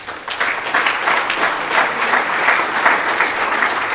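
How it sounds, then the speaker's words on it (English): A conference audience at the closing session of a publishing summit bursts into dense, steady applause, loud and sustained throughout. "So please give them a round of applause."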